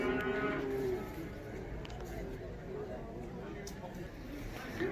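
Cattle at a livestock market, including a three-year-old bull, low and steady with animal sounds mixed into a constant crowd murmur and nearby talk.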